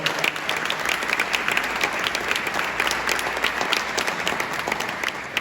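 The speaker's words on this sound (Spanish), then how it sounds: "Bernat de Gualbes, un aplauso, por favor" Sustained audience applause for a named figure at an oath ceremony of the Caspe compromisers, a dense, steady crowd clapping throughout at even loudness with no talk over it.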